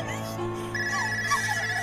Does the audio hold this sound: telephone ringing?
yes